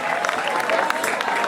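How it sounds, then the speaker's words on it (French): Audience applauding comedian Bruno Alvès at a comedy show by the Congo River, a dense continuous patter of clapping from a crowd, steady and fairly close throughout with no pause. "on peut encore applaudir Bruno Alves."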